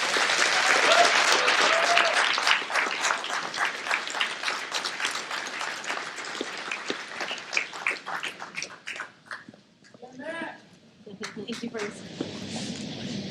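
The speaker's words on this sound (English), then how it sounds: "let's create a thunderous applause" A banquet audience applauds an honoree, with dense clapping at first, thinning into scattered claps and cheers, and a voice speaking near the end.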